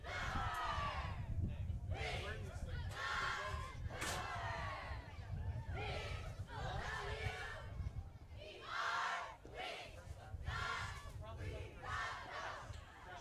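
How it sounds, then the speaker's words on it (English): Cheerleaders at a high school football game between SSFHS and King's Academy chant in rhythmic, shouted bursts that rise and fall steadily over a constant crowd murmur. "Cheerleaders continuing to cheer."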